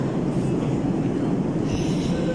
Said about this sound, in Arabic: طبعا وصلنا محطة المترو